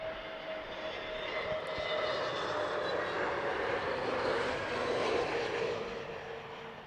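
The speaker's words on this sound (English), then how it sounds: "Behind it is the British Airways A319, flight number 481 from Barcelona." A British Airways Airbus A319 jet comes in to land at Heathrow: a steady engine roar with a high, thin whine that swells slightly and then eases off, heard from a moderate distance.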